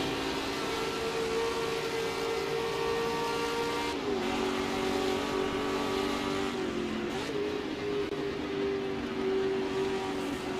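Engine of a Ford GT40 race car in Assetto Corsa during a 1966 Spa race, a loud sustained roar that holds steady and dips briefly twice as the driver shifts, with no voices.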